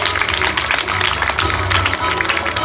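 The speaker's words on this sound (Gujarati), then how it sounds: "તો જોરદાર તાળીઓ તેના માટે." An audience at a school annual function claps in a dense, continuous burst of applause, loud and close, lasting the whole stretch.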